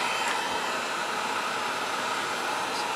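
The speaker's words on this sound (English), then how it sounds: "I'm just running the heat gun over the plastic" A heat gun blows steadily over very hot plastic while a Halloween pumpkin-man prop is shaped, giving a constant close airy roar with no breaks.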